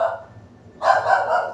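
A dog barks at night, a short quiet stretch giving way to a run of moderately loud, closely spaced barks with no voices.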